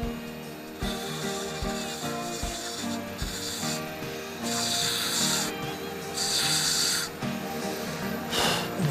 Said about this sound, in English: And now we'll just clean up the edge a little bit. Spindle gouge.